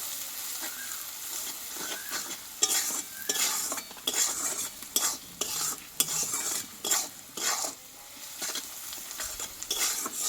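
Onions frying in a pan with salt and turmeric, stirred repeatedly: a steady close sizzle broken by frequent scraping spoon strokes against the metal, no voices.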